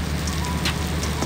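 Monsoon rain falls in Karachi with strong winds as a hot spell breaks. The rain makes a steady, close hiss of drops hitting surfaces and lasts only a moment.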